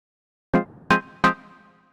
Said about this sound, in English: And this is plug side, which can be used with chords as well.